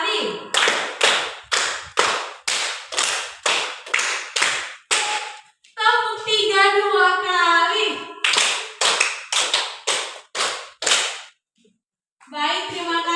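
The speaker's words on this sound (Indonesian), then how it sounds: "tepuk lima dua kali," Rapid bursts of unison clapping from a group of women, two runs of about ten sharp claps each split by a woman's spoken call, close and loud in a rhythmic clapping game.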